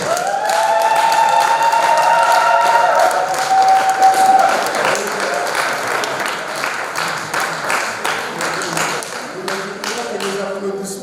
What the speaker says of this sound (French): Les applaudissements sont un peu timides.